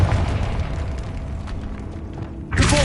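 A Confringo blasting spell going off in Hogwarts Legacy: after a steady low rumble of game ambience, a sudden loud explosion bursts in near the end.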